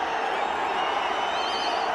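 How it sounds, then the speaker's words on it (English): A cricket stadium crowd at an India versus Sri Lanka one-day international cheers a boundary with a sustained, dense roar of many voices that holds steady throughout. "Massive cheer because they're aware they've gone past the 54."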